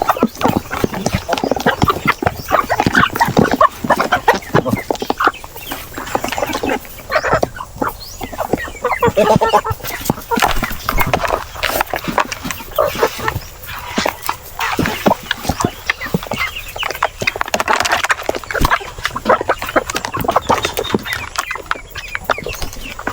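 Farm fowl, a small flock of seven Peking ducks, keep up busy, dense calls with scattered sharp notes and rustling movement. The sound is close and fairly loud and runs steadily throughout, with no clear talk over it.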